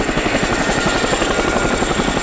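A Royal Air Force Chinook twin-rotor helicopter flying at an air display, its rapid rotor thump beating steadily and loudly over a continuous engine whine, heard alone.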